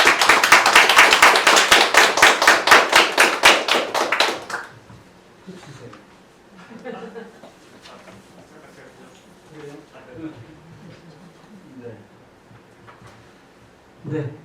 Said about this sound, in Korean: 그러면은 우리 노성태 원장님 큰 박수로 모시겠습니다.